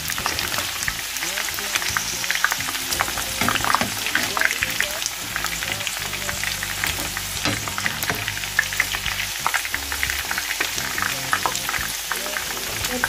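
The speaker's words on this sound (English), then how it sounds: "I'll be frying it" Turkey pieces frying in a pan of fat, a steady dense sizzle and crackle running throughout with occasional stirring, close and continuous.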